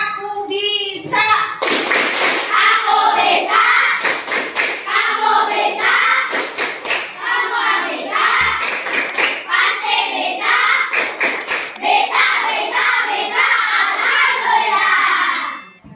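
A primary school class does a rhythmic clapping game, sharp group claps arriving in bursts and patterns alongside children's chanting voices, loud and close throughout.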